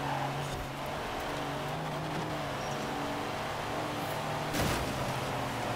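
Trucks in Forza Horizon 4 drive along a road, a steady low engine drone with a droning hum, one brief louder swell near the end; no talking.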